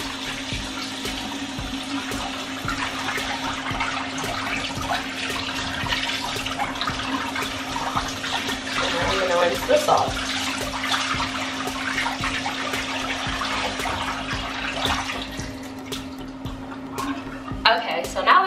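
Running tap water splashes into a sink as a face is rinsed during a skincare routine, a close, continuous watery rush with a steady faucet hum beneath and shifting splashes toward the end.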